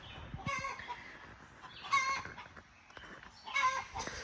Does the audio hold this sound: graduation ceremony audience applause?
no